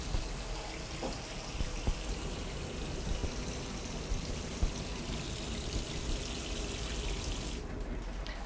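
A single kitchen tap runs steadily in a small grill bar's washing area, a continuous rushing of water at moderate level with faint background noise and brief knocks, cutting off near the end.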